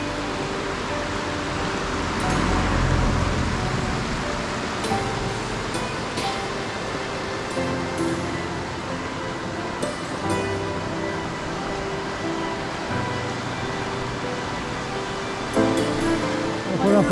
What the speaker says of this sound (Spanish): Una parte del río viene por aquí, la otra va por allá.